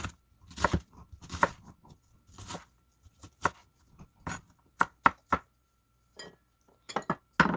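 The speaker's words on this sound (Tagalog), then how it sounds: "yung panggisa po na size. Maliliit na hiwa, ganyan po." Knife chopping ingredients into small pieces for sautéing, a series of sharp, close taps on a cutting board coming in irregular bursts and single strokes with quiet gaps between.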